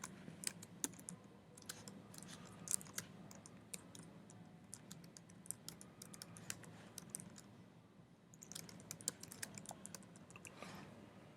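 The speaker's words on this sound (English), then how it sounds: "You highlight and you just type in what you want." Keys tapped on a computer keyboard while text is typed into a graphics program, a soft, irregular run of quiet clicks over a steady low room hum, no talking.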